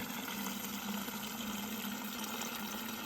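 Water from a well pours steadily into a 5-liter plastic jug, a continuous close gushing and filling sound with no pauses.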